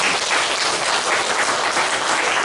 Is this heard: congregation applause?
yes